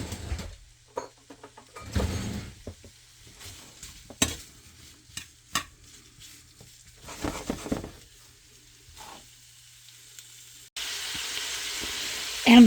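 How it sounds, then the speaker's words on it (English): Sausage searing in a pan for a slow-cooker shrimp and sausage gumbo, with intermittent sizzling and stirring scrapes in bursts, then a steady louder sizzle near the end. "while you're searing your sausage"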